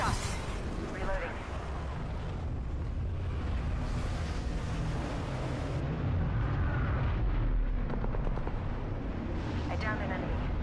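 Gunfire in a battle royale video game, a dense, continuous roar of shots and booming blasts that stays loud throughout, with a player's voice partly buried beneath it.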